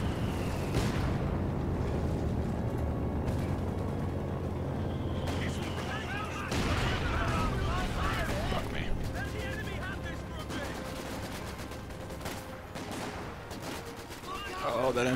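Machine gun bursts and scattered gunfire in a Company of Heroes 2 battle, sustained and dense over fifteen seconds, mixed with distant explosions and heard under ongoing talk.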